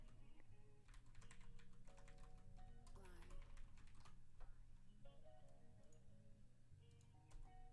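Fingers type on a computer keyboard in quick, irregular bursts of soft clicks, quiet and close, with faint talk in the background.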